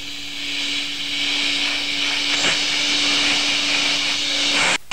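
A vacuum cleaner runs close by with a loud, steady whine and airy hiss throughout, cutting off abruptly at the very end.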